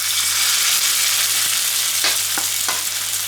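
A spooned meatball sizzles as it fries in oil in a wok while Chinese meatballs are cooked. The hiss is steady and loud, with a few brief crackles and scrapes.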